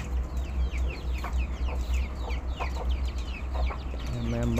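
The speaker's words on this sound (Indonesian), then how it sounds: "ayam-ayam jantan" Several village roosters cluck and chatter repeatedly over a low steady hum, with a few nearby calls standing out.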